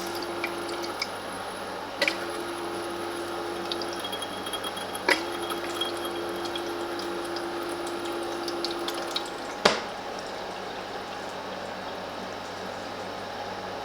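A Silvercrest ice maker runs with a steady mechanical hum and faint tones, broken by three sharp clunks spaced a few seconds apart as fresh ice cubes drop.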